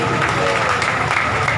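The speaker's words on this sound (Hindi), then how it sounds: "जोरदार तालियां हमारे प्रमोद जी त्रिपाठी के लिए" Audience applause at a Maithili kirtan performance, a steady close wash of many hands clapping with a faint crowd murmur beneath, lasting under two seconds.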